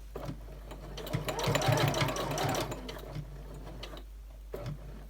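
A sewing machine stitches diagonally across fabric with a steady, rapid mechanical chatter over a constant low motor hum, close and continuous, easing off toward the end.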